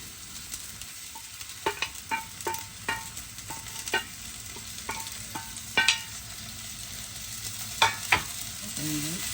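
Dried anchovies sizzle steadily in a pan while a utensil scrapes and taps at irregular intervals, close and clear, with no talking.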